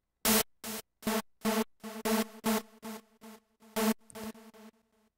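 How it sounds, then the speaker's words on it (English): Bright white noise synth effect in Ableton Live, a rhythmic series of loud gated bursts with a tonal buzz, about a dozen evenly spaced hits that fade toward the end. "bright white noise."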